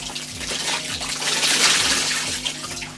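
Steady running water from a tap splashing into a sink during underarm washing, a continuous close hiss with slight fluctuations and no talking.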